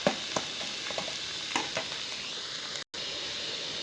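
Potato and cauliflower pieces for aloo gobi fry in hot oil until golden, giving a steady close sizzle with a few soft stirring scrapes and a brief dropout near the end.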